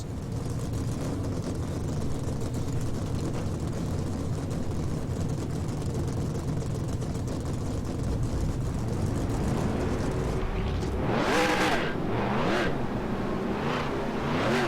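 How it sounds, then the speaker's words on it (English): Race car engines drone together in the NR2003 racing video game, a dense, steady rumble throughout, with rising revs toward the end as the engines fire up. "Drivers, start your"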